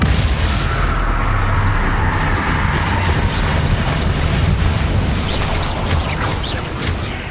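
The Confringo explosion spell in Hogwarts Legacy bursts in loud, continuous booming blasts with crackling debris, a dense roaring barrage filling the whole stretch without pause.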